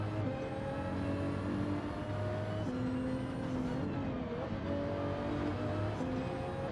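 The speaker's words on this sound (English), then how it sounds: "Braking once again at 100 meters, dropping down to 4th gear" A race car in Gran Turismo 7 braking hard and downshifting to fourth gear, with a continuous engine drone whose pitch drops and climbs through gear changes, no voice over it.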